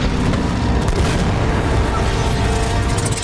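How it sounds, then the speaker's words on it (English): Anti-aircraft fire exploding around a plane in the game Uncharted: Drake's Fortune, a loud, dense rumble of booms and blasts running continuously without clear gaps. "What the hell was that? An anti-aircraft fire?"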